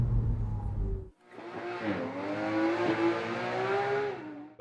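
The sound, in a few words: Porsche 987 Cayman engine with Speedin Engineering induction system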